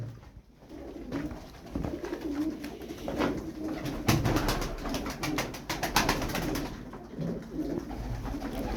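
Tumbler pigeons coo in soft, low, repeated murmurs amid rustling and fluttering, with a burst of wing flaps partway through.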